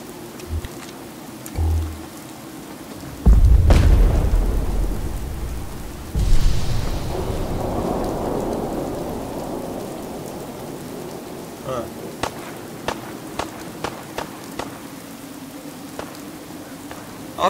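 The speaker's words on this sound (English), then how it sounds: "Still can't get rid of the rain, though." Steady rain in the video game Fallout patters throughout, with a deep rumble of thunder swelling early on, then softer drips and scattered ticks continuing alone.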